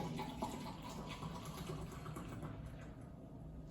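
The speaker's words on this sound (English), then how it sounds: "I'll try to do an aggressive pour to see if we get any foam out of this at all." Mr. Beer Long Play IPA poured hard into a glass, a continuous gurgling, splashing stream of liquid at close range that fades slightly toward the end, with no talking.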